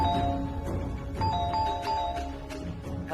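A doorbell in a home in a Hindi TV drama chimes in repeated ding-dong tones, several rings in quick succession, clear and fairly loud with no voices.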